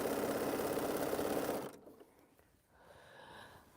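A sewing machine stitches the final border of a quilt in a brief, fairly quiet whirring run up close, then stops abruptly, leaving soft room noise.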